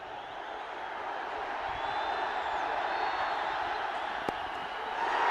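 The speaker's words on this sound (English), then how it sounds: "The crowd on their feet." Cricket crowd in a stadium cheers as a batsman nears his century against West Indies, a broad, steady roar of many voices at a distance, with a faint whistle and a commentator speaking over it.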